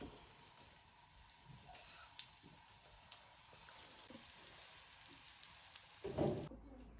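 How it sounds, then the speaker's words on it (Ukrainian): Vegetables fry in a pan with a faint, steady low sizzle, and a brief louder clatter comes near the end just before the sound cuts off. "зараз обсмажуємо овочі"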